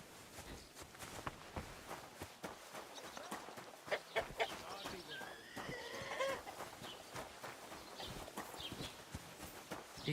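Horses clip-clop on a path in the medieval open-world game Kingdom Come: Deliverance II, with steady overlapping hoofbeats at moderate distance, plus faint chicken-like clucks and a few scattered footsteps in the background.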